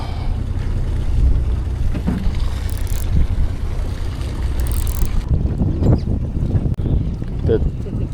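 Wind blowing across the microphone on a small boat off Kuala Besut in slightly choppy water, a steady broadband rush with low rumble throughout and a brief faint voice near the end.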